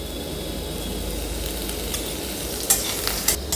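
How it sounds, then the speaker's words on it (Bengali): Continuous sizzle of eggplant frying in oil, with stirring and a few sharp spatula scrapes near the end, no voices. "বেগুনটা আমি লাস্টে ভাজছি, কারণ বেগুনটা সব তেল টেনে নিয়েছে।"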